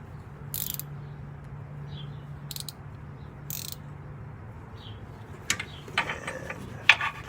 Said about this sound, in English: And we get up there with my wrench.